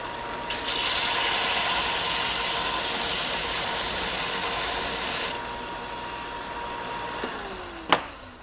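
A SKIL BB9504 belt disc combination sander whirs steadily at full speed without a vacuum attached, with a loud, hissing mechanical roar, then cuts off and winds down, ending with a sharp clunk.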